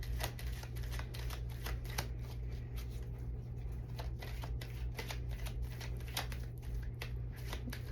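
Tarot cards shuffled and drawn close up, with quiet rapid riffling and crisp card snaps repeating irregularly over a low steady hum.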